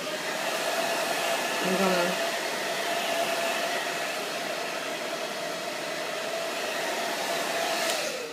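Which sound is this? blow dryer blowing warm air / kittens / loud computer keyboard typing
blow dryer blowing warm air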